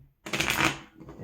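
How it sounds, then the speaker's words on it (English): A single quick riffle of Pokémon trading cards being shuffled into a deck, a brief crisp fluttering burst close by, then quiet. "Shuffle the hand into the deck"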